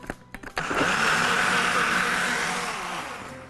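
An electric mixer whirs through cardamom cake batter: a few quick knocks, then a loud, steady, continuous hum that holds for the rest of the clip and eases slightly at the end.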